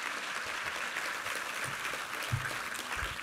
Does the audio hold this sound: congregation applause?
yes